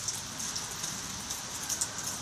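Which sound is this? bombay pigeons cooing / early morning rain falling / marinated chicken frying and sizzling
early morning rain falling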